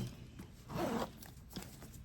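Zipper sliding along the back pocket of a Coach Rowan Large bag in signature canvas with stripe, one smooth close pull with a brief catch and a faint tick afterward, quiet and alone.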